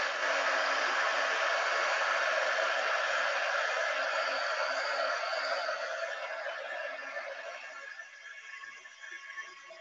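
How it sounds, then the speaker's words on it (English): A hair dryer blows over a watercolor painting with a loud, steady hiss and whir that slowly fades near the end, with no voices. "So I'm gonna use a hairdryer real quick."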